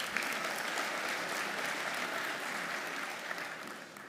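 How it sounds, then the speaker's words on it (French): Audience applause at a mayors' congress session on overseas security, steady dense clapping from a large hall sustained throughout, fairly distant and even. "On peut applaudir, vous avez raison."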